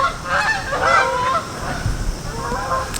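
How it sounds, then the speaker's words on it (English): A flock of geese honking steadily and fairly close, overlapping nasal calls filling the whole stretch against a constant outdoor hiss. "Geese."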